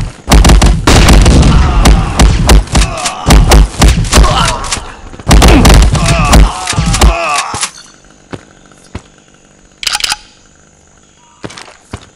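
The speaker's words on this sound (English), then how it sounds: "Stun grenade!" A loud, close stun grenade blast during a Modern Ops team match, among rapid bursts of heavy gunfire and thuds that cut out partway through, leaving sparse scattered shots and clicks.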